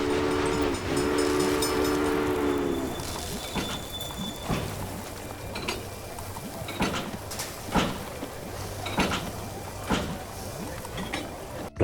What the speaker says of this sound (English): the train sound effects were really good